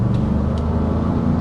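Steady, loud low engine rumble inside a 2025 Ford Expedition Platinum as the driver floors it and the transmission picks a lower gear, giving continuous road and drivetrain drone with no clear shift breaks, no voices.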